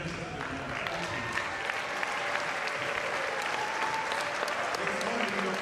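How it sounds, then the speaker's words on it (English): Sustained applause fills a large hall as an audience at a graduate engineers' induction and oath-taking ceremony claps for the keynote speaker, dense and steady throughout with crowd murmur beneath. "give a round of applause to the keynote speaker for today"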